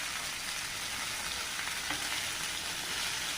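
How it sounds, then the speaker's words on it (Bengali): Pieces of mrigal fish fry in hot oil in a pan, giving a steady, dense sizzle that holds evenly from start to finish with no talking over it. "মাছ ভেজে নিচ্ছি।"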